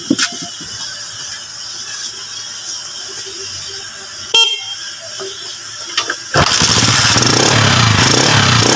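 A newly rewired Rusi 125 motorcycle, recently fixed after losing electrical power, gives clicks and a brief sputtering crank, then starts and settles into a loud, steady engine run close by for the last couple of seconds.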